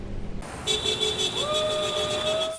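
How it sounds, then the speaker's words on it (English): Car horns blare in long sustained tones over steady road noise, overlapping one another and sounding close by. "Flags waving, cars honking."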